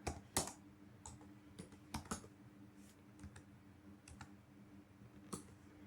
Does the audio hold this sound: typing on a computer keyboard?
yes